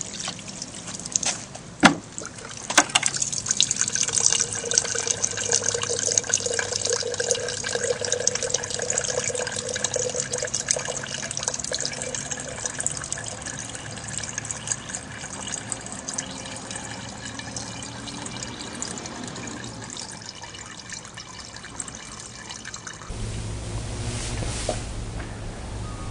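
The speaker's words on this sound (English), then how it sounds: "now I'm going to go ahead and pour some of this oily water into the X-Tex, and you'll see the difference in how fast it goes through" Oily water poured through Ultra-X-Tex oil filter fabric, a steady trickling and splashing of liquid running for about twenty seconds before tapering off, with no talking over it.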